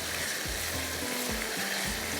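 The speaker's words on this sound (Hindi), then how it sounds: "बस इसको आपने भुनाई ज़रा अच्छे से कर लीजिएगा" Beef sizzles steadily in a pan while being fried for street-style yakhni, a constant close crackle with faint stirring scrapes and no talk.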